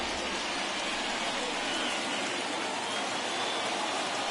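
Heavy rain pours steadily at a 2021 MLB baseball game between the White Sox and Angels, a dense, even hiss of falling water that stays constant throughout with no breaks.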